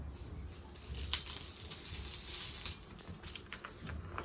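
Oil sizzling on a hot tawa griddle over a gas flame, a soft continuous crackle with bright spitting bursts, faint and close, no talking.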